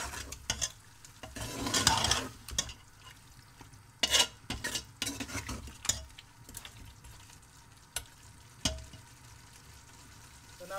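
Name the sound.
stir-frying goat meat with spices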